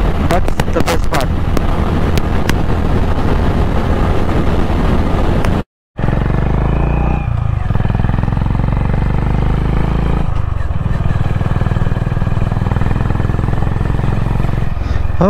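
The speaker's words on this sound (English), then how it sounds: "Bike just pulls all the way from 40, 50 to 120." A Honda CB 350 Highness motorcycle cruising on a highway, its steady engine drone mixed with heavy wind rush across the microphone, with a momentary dropout partway through before the ride noise resumes.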